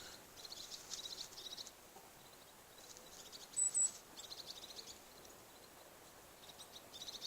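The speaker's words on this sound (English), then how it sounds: "You see the birds everywhere? I hear them" Faint birdsong in scattered bursts of high spring chirps over a quiet outdoor background, with one brief sharper call partway through.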